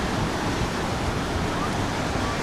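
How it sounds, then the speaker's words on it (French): Ocean waves of roughly eight to nine feet break at a beach on Cayo Santa María, heard as a steady, dense wash of surf with no talking. "Comme on peut voir, l'eau, il y a bien des vagues."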